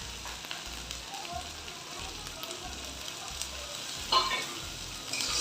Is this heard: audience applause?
no